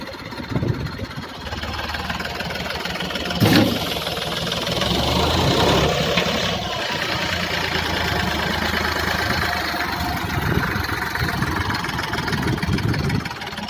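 A tractor engine runs steadily nearby, a loud chugging drone with a knocking rhythm throughout, punctuated by a sharp clank early on.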